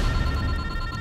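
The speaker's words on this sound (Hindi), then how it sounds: "जॉनसन को फोन लगाओ सर" A telephone rings with a steady, bright electronic tone, continuous through the short moment, with a low background hum beneath it.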